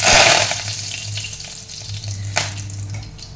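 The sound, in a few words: curry leaves sizzling in hot oil with mustard seeds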